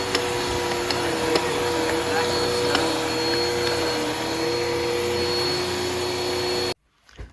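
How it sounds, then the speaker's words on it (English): Bissell 2252 CleanView Swivel upright bagless vacuum running with its rotating brush, a steady loud whine and motor drone held close for several seconds before it abruptly cuts off. "when you turn it on, this brush is rotating, so that's for cleaning the pet hair off your carpet"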